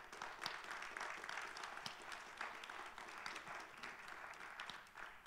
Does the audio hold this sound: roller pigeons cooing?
no